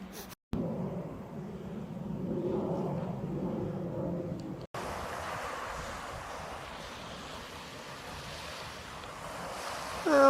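Steady wind buffeting the microphone on a cold, windy Thames riverbank, a broad continuous rush with gusts and faint lapping water, no talking.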